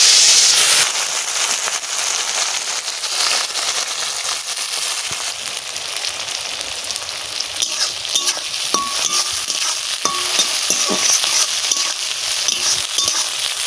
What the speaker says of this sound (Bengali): তেল গরম হয়ে গেছে গোটা জিরে দিয়ে দিচ্ছি তেজপাতা দিয়ে দিচ্ছি এবারে চিংড়ি মাছগুলো দিয়ে দিচ্ছি